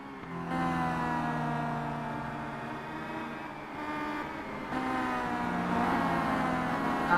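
Simulated race car engines from a WTCC touring car race at Laguna Seca drone and whine as a white BMW moves past, layered sustained engine tones rising and shifting in pitch, with no talk.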